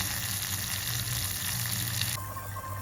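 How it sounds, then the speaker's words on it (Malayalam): Small chopped onions and curry leaves fry in coconut oil for a Kerala fish curry, giving a dense, close crackling sizzle that runs unbroken, softening slightly near the end. "ഇനിയും ഇതിൻ്റെ കളർ നന്നായിട്ടൊന്ന് മാറുന്നിടം വരെ നമുക്ക് വറുത്തെടുക്കാവുന്നതാണ്"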